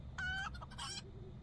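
Chickens cluck and squawk in short bursts in the LOTRO video game, faint and close, with a rising cackle and a few quieter clucks trailing off.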